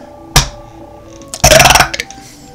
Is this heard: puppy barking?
no